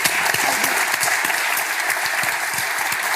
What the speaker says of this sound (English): If everyone could join me in giving a round of applause for Derren